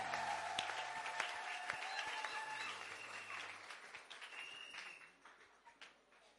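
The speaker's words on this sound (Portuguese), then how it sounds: "Salve de palmas" A congregation applauds a choir from a conservatory at a Congolese church wedding celebration, with steady, dense clapping that gradually thins and fades out near the end.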